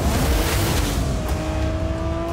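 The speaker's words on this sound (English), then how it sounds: "Something that screams TRD is exhaust, the really bold, deep rumble" A 2023 Toyota Camry TRD with a 301-horsepower V6 drives in Forza Horizon 5, its engine and exhaust holding a steady, loud drone with a rising tone throughout, with no voices over it.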